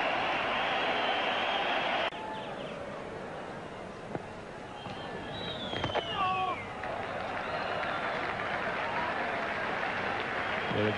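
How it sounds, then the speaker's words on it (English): A large cricket crowd at a 1996 World Cup match between India and Australia roars and buzzes in a broad, sustained wash of cheering, with scattered shouts and whistles rising above it. "Crowd was really buzzing."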